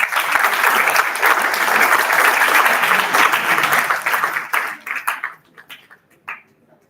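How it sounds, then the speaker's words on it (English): An audience at a university school of commerce event applauds loudly and steadily, then the clapping thins out and dies away into a few scattered claps. "Please join me in giving a warm round of applause to Mr. Anupreet Chaudhary."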